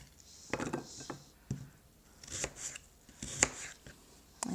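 Apples being cut into pieces on a board for a homemade apple pie, a series of sharp knife chops and taps in irregular rhythm, close and fairly quiet, with brief pauses between cuts.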